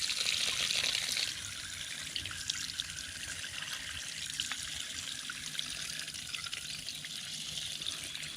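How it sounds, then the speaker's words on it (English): High-pressure water sprays over a K&N air filter, a loud continuous hissing splash that is strongest at the start and then holds steady without talk. "Now let's get some more water pressure."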